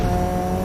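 A Formula 1 race car engine roaring at steady high revs, a dense, loud continuous drone with no talk over it, brief and close.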